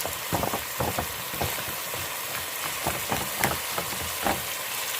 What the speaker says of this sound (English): We're going to go ahead and stir this around until that tomato paste, I guess you could say, melt.